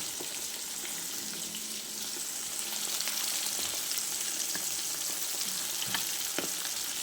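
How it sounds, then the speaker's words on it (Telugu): Vanjaram fish frying in oil produces a dense, constant hiss close by, with scattered small crackles and pops and a slight rise in intensity midway, no one speaking. "చూడండి ఎంత బాగా ఫ్రై అవుతూ ఉంది"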